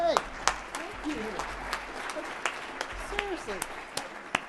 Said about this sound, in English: Yes, yeah, we absolutely should clap.